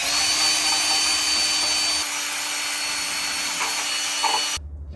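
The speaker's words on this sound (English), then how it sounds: "Now we're going to use the wire brush real quick to clean up the inside of these mounting points" A power-driven wire brush works on the inside of truck frame mounting points during a 6-inch Rough Country lift install. It makes a loud, steady whirring grind that holds for over four seconds, then cuts off abruptly. No one speaks.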